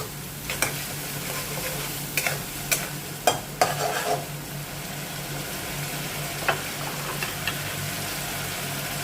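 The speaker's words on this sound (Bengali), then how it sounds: "কুচি করে কেটে রাখা চিংড়ি মাছগুলো এর মধ্যে দিয়ে দেবো। দিয়ে এবার ভাজবো।" Chopped prawns frying in a pan over a gas flame turned up high give a steady, close sizzle, broken by a few sharp scraping clicks as they are stirred, with no talking.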